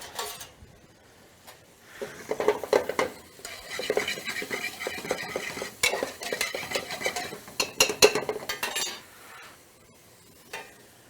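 Ingredients sauté in a pan on a live cooking show, with repeated utensil scrapes and clinks against the pan over a low sizzle, loud at times and tapering off near the end.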